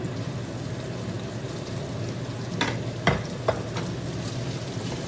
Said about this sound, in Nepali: अब प्याज र मासु सँगसँगै भुट्नुपर्छ एकछिन।